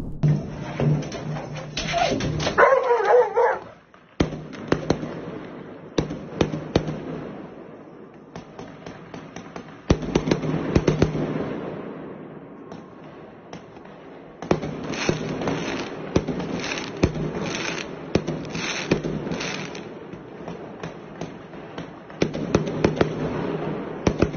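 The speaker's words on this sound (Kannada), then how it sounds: "ಪಟಾಕಿ ಅಂದ್ರೆ ಈ ನಾಯಿಗೆ ಭಾರಿ ಇಷ್ಟ" Firecrackers burst in a series of sharp, irregular bangs and crackles, some loud and close, spread across the stretch with quieter gaps between volleys.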